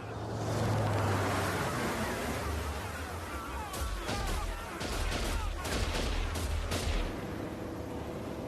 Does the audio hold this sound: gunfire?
yes